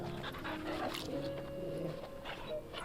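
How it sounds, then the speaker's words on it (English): A dog panting inside Final Fantasy 16, with quick breathy huffs and a few soft whimpers over steady game ambience and music, close and moderately loud. "Josh, you like my cool ice thunder dog?"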